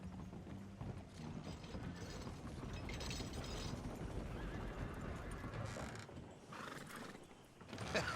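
Horse hooves clip-clop steadily under a busy soundscape in the video game Red Dead Redemption 2, with a horse whinnying partway through and a louder burst near the end.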